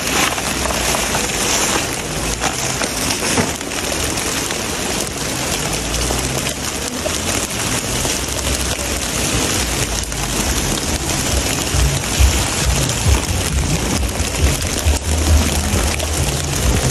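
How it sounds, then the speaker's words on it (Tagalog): Heavy rain pours steadily outdoors during a dumpster-diving outing, a dense continuous hiss with low rumbling underneath, loud and unbroken for the whole stretch. "Naabutan na naman kami ng ulan."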